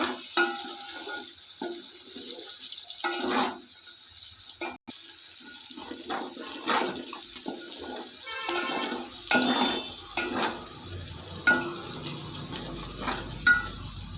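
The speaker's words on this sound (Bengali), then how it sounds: "মটরশুঁটিগুলো ভাজা ভাজা করে নেব।" Green peas sizzle in a hot pan for a long stretch, with repeated scraping strokes of stirring breaking through the steady hiss.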